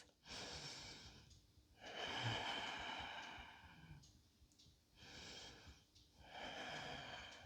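Slow, audible breaths during a yoga pose in a flow class, long airy inhales and exhales cycling about every two seconds, close and soft with no talking.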